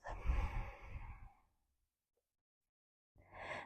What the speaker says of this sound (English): Take a full round of breath.